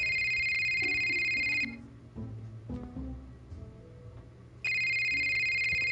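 Electronic phone ringtone ringing in a video game, bright tonal chimes that play for under two seconds, stop during a quieter gap with faint game sounds, then start again loud.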